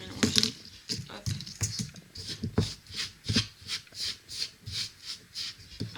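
Bath bomb kit powder is mixed by hand in a bowl, making soft, rhythmic rubbing and scraping strokes, about two per second, close to the microphone with quiet bits of voice at the start.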